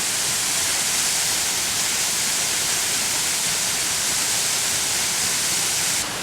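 Benlister Falls near Lamlash on the Isle of Arran rushes as a dense, constant roar of falling water, loud and close, steady for the whole stretch with no voices.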